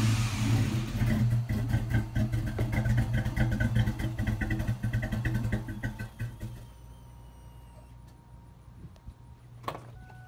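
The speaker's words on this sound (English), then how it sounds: "got the new mufflers welded on, and we wanted to take it for a spin" Ford Mustang GT with newly welded mufflers revving and pulling away, a loud close engine roar that gradually fades into quieter idling and faint clunks.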